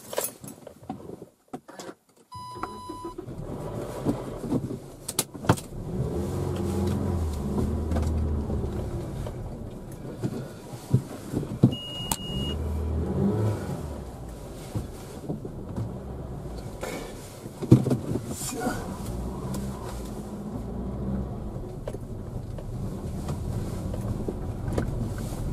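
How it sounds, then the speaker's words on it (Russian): Keys jangle and a car engine starts, then settles into a low running drone as the car pulls away and drives on a road trip past Zeil castle, with scattered clicks and knocks along the way. "теперь заводим машиночку. Поехали."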